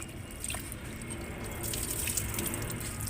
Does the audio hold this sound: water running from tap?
yes